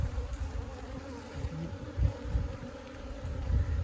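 Honeybees buzz steadily around an open hive during queen marking, a faint, continuous low hum with soft rustling and no talking.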